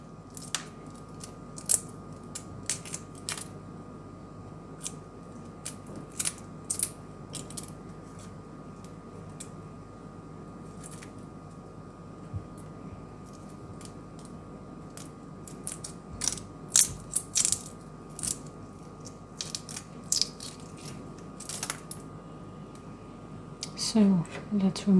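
Boiled eggs have their shells peeled by hand, with close, crisp crackling and clicky snaps in uneven bursts over about half a minute, intermittently under soft-spoken talk.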